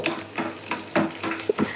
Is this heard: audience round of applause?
no